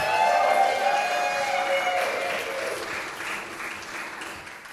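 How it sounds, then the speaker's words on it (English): A poetry-reading audience claps for the poet Amy, a broad wash of applause that starts full and slowly thins and fades. Tonal background sound lingers faintly beneath the first couple of seconds. "Please clap for Amy one more time."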